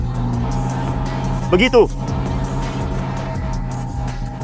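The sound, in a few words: old abandoned possible Mustang car driving in second gear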